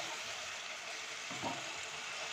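Spice masala with chili powder sautés for a mutton curry, a soft, even sizzle that holds steady throughout, with one faint stir near the middle.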